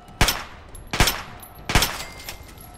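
Gunfire in the video game Fallout 3: three sharp, loud shots spaced roughly three quarters of a second apart, each with a short ringing tail, heard alone without talk.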